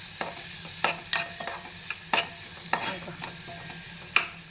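Garlic, mustard seeds, cumin, asafoetida and curry leaves being stirred in hot oil for a tadka, with soft background sizzle punctuated by repeated sharp scraping clinks of a spoon against the pan at irregular intervals.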